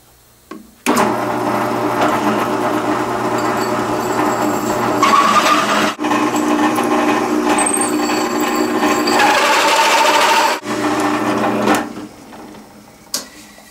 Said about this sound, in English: Here you can see how the pilot hole helps center the pilot bit in drilling these large diameter holes.